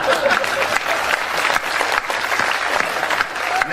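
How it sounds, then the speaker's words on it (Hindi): Audience applause at a Hindi comedy poetry gathering: dense, continuous clapping from a crowd that stays fairly loud and even for several seconds, with small dips between bursts. "2-3 लोग ताली बजाइए"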